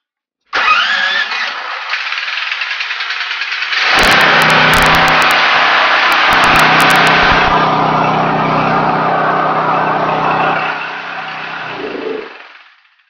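A Marpro MP8000E 8kVA gasoline generator is choked and started: a brief cranking rattle, then the engine catches and settles into a loud, steady running roar close by before it winds down.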